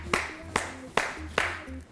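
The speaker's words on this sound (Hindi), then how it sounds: "जोर से तालियां बजाएं यार" Studio audience clapping on a Pakistani talk show, four sparse, evenly spaced claps, sharp and distinct with a faint murmur between them, thin rather than a full ovation.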